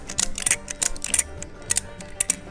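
A ratchet strap on a Tentsile tree tent being cranked to take up slack, giving a close run of sharp, irregular metallic clicks and ticks.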